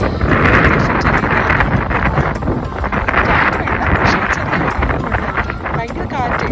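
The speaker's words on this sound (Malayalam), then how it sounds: "ഭയങ്കര കാറ്റ്." Strong wind blows across open city farmland fields in the Netherlands, a loud continuous rushing buffet against the microphone with a person talking over it.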